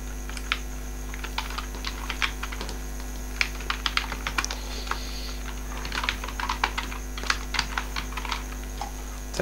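Fingers tapping out an email address on a computer keyboard, irregular bursts of quick clicks over a steady electrical hum, fairly close and with no talking.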